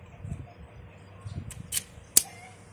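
A wiper blade on a 2016 Audi A6 snaps into its arm with a sharp, brief click near the end, after a few faint plastic taps and rustles, close and quiet.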